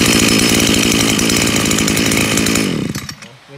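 A Japanese Maru engine with a 30–32 mm pump runs loud and close, its exhaust a dense, rapid buzzing rattle like a chainsaw that holds steady and then cuts off and dies away.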